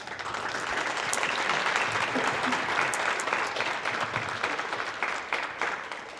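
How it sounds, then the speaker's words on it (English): Steady, sustained applause from an audience at a Relay for Life kick-off party fills the whole stretch at an even loudness, with no clear speech over it. "Can we give him one more round of applause?"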